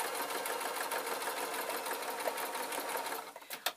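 A sewing machine runs steadily, stitching a shiny-fabric waistcoat with a thin, sharp new needle; the continuous close whirring hum pauses and stutters briefly near the end.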